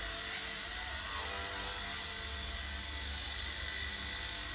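An Eachine E129 RC helicopter with altitude hold flies indoors in a confined space, giving a constant high-pitched motor whine and rotor buzz that stays steady and close throughout, with no talking.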